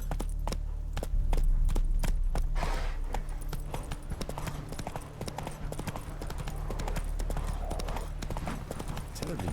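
Roach, a horse in The Witcher 3, gallops with rapid, sharp hoofbeats in a fast regular rhythm that is close and loud, over a low steady hum, with a voice speaking briefly.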